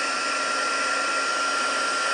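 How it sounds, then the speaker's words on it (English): Stampin' Up heat gun blowing on its higher heat setting, a loud, steady, close whooshing hum of fan and air that holds without change and has no talk over it. "Now this is the new, newer Stampin' Up heat gun I've now got. It's got 2 heat settings, so I'm using the higher heat setting here"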